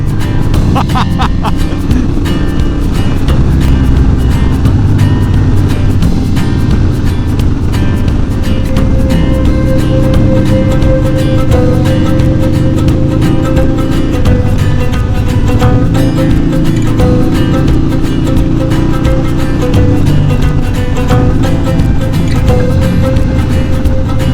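A Harley-Davidson Sportster 48 motorcycle is ridden up toward the Holme Moss summit, its loud, continuous low engine rumble mixed with heavy wind buffeting for the whole stretch.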